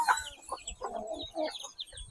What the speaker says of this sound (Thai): ไล่ไก่นั่นละ